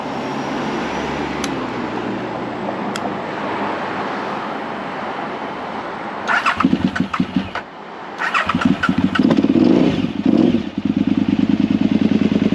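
A 2007 KTM 950 SMR motorcycle with carburetors cranking after a few clicks, catching and settling into a loud, lumpy twin-cylinder idle with uneven throttle blips, close up.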